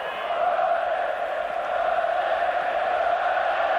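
Football crowd at a 1989 AC Milan versus Real Madrid match chanting Olé, a sustained massed roar of voices from the distant stands holding steady throughout.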